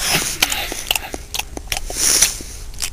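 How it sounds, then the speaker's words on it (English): Crunchy biting and chewing on a mutant's head in a post-apocalyptic survival video game, a run of close, wet crunches and bites in uneven rhythm, heard alone without talk. "Now, I had this mutant's head to feast upon."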